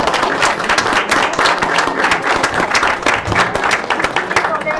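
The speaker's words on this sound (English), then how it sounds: "Let's give everybody a round of applause." Audience at a school district board of education meeting applauding, loud close clapping from a roomful of people with distinct individual claps in a steady patter, some voices mixed in.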